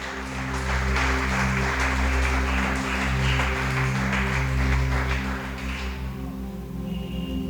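Applause from a church congregation during a worship service, a broad steady wash of clapping over sustained organ or keyboard chords, fading slightly near the end.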